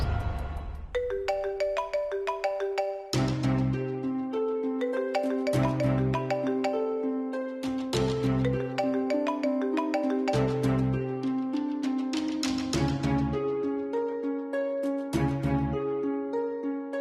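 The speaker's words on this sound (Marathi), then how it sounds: "फोन लावा ना सिद्धूला." A phone rings in a Marathi TV serial scene: a bright melodic ringtone loops steadily for about seventeen seconds, loud and clear, with no one speaking over it.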